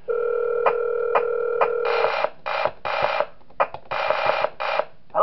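A telephone in the horror game Five Nights at Wario's 3 Version 2.0 gives a steady tone with clicks, then a series of repeated buzzing ring bursts separated by short gaps.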